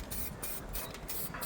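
Aerosol spray paint hissing steadily from a can during a fencing job, a continuous broadband spray with short pauses between bursts, close and fairly loud, with no talk.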